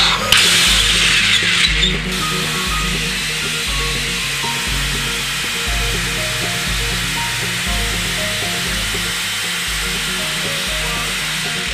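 A drill with an 8 mm bit, 250 mm long, bores holes into cave rock, a steady grinding whine with a rhythmic low pulsing beneath it, close and loud throughout, with a harsher burst at the very start.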